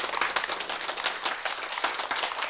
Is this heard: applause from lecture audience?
yes